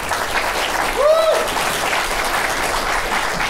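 Sustained applause from a debate audience at a 2012 Calgary Centre by-election candidates' forum, a dense, steady wash of clapping filling the room at even loudness throughout, with no one speaking over it.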